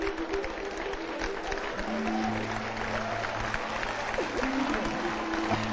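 Studio audience applause fills a Turkish TV show set, a sustained dense patter of many hands clapping, with music and a voice faintly underneath.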